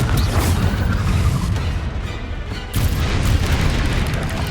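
Fiery Confringo blasting spells from the Hogwarts Legacy video game, rendered as loud, dense booming explosions that rumble almost continuously, with a brief dip in the middle before another heavy blast surges back in.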